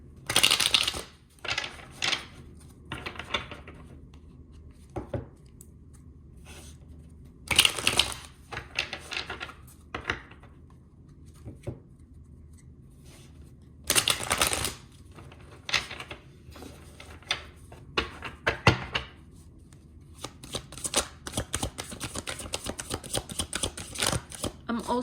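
Tarot cards are shuffled, drawn and laid out on a table in quick bursts of sharp slaps and riffles separated by quiet pauses, with a run of rapid flicking near the end.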